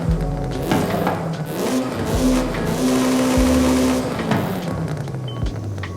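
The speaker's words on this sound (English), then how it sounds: "And here is how the race one sounds." Honda Civic EP3 Type R with a race exhaust, revving up and down in loud, close, raspy bursts with a rough, crackly tone and no talk.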